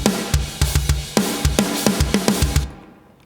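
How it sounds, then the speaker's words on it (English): A drum kit plays alone: punchy kick and snare hits in a steady groove with cymbal wash, close and clear, fading out at the end. "So the drums alone sound like this."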